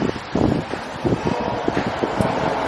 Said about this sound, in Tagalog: Tingnan nyo, mahangin sa labas.